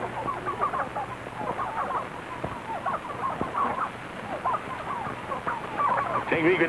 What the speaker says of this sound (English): Nice crop of turkeys you got there.